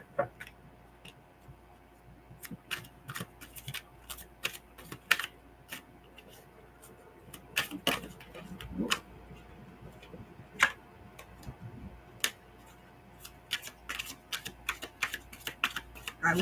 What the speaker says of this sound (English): the more that I'm shuffling this deck, the more it feels a bit more flexible